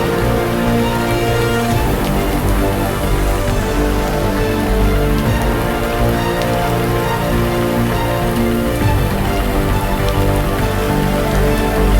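Artificial rain falls in a cultivated forest on a natural farm, a dense, steady patter of drops hitting surfaces that carries on without a break.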